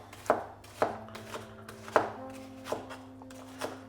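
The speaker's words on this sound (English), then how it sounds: "we're just gonna roughly chop an onion there" A knife roughly chops an onion on a board, about seven crisp, uneven thunks spaced half a second or so apart, close and fairly quiet, with no talking.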